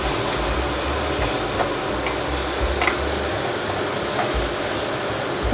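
Fried rice is stir-fried in a pan, giving a loud, steady sizzle with faint scraping from the stirring, close and continuous, with no talk over it.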